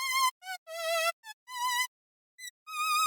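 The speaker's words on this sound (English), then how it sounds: "We have this s.h.i.e.l.d. 8 vintage synth patch in the Omnisphere" A vintage synth patch in Omnisphere buzzes like bees in a series of short, bright, wavering notes separated by silences, loud and close, alone.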